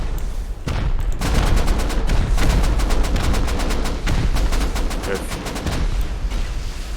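Rocket explosions and gunfire in the Rust video game during a 7v7 tournament raid: dense, rapid bursts of shots and booms continue without a break for several seconds.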